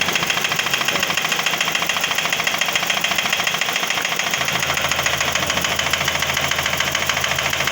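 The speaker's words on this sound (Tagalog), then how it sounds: "Ang parang may pumupok sa loob ng makina" A running Toyota Vios car engine knocks with a fast, steady metallic ticking over a loud, constant mechanical hum, close up.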